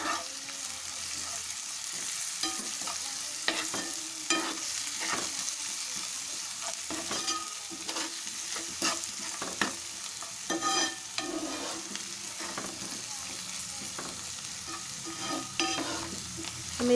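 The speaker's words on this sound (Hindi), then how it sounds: "डालने के बाद हम इसे अच्छे से इस तरह से भून लेंगे" Chickpeas with coriander stir-fried in a pan: a soft, continuous sizzle marked by repeated scraping and clacking strokes of a spoon against the pan, close and fairly quiet, with no talking.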